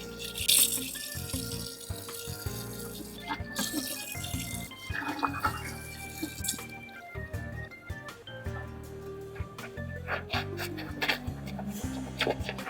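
A tap runs into a sink as a face is rinsed after a safety-razor shave, with uneven splashing, rattling and rubbing sounds close by.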